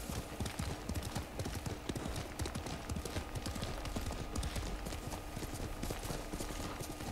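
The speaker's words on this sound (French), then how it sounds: "C'est quand même plus la classe d'arriver avec un cheval." Horse hooves clip-clop steadily in the samurai game Ghost of Tsushima, a dense, continuous rhythm of hoofbeats running throughout at close range.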